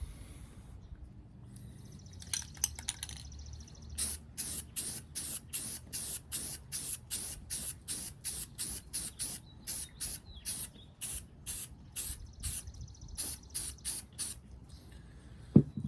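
An aerosol spray can coats a pine tree before flocking. It gives a series of short, sharp hissing bursts in quick repeated pulses, fairly faint, over a quiet background.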